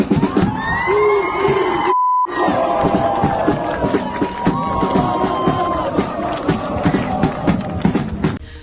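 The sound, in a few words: soldiers chanting with passers-by applauding and singing along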